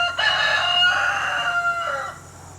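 A hen chicken with her chick in an outdoor grassy run gives one drawn-out, squawking call up close, fading out at the end, with no talk.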